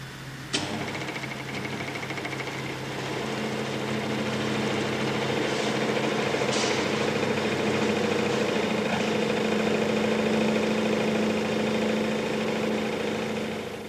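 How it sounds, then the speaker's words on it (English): A test rig vibrates a bolted joint with a nut at about 800 rpm, giving a steady, continuous mechanical hum and rattle that runs throughout, with a sharp click near the start and another around the middle. "what happens to the nut when the joint is vibrated at about 800 revs per minute"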